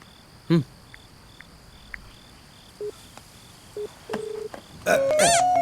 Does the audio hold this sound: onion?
no